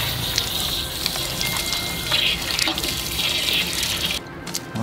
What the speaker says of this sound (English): Okay, so we let the pressure off.